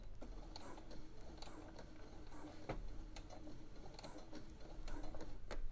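A domestic sewing machine runs steadily, its needle stitching through several stacked fabric layers of a scrunchie, giving a continuous mechanical whir with fine repeated ticking throughout and no talking.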